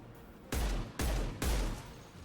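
Three sharp gunshots fired in the video game Mass Effect 2, evenly spaced and loud, each one a sudden burst followed by a brief ringing tail.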